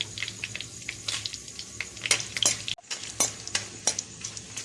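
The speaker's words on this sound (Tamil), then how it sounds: "தனியா நல்லா வறுபடணும். அதோட நாம எடுத்து வச்சிருக்கிற அந்த காஞ்ச மிளகாவை சேர்த்துக்கலாம்." Coriander seeds and dried red chillies roasting in a pan, with a soft steady sizzle and repeated scraping stirs and light clinks of a spoon against the pan, close and fairly quiet, no talk.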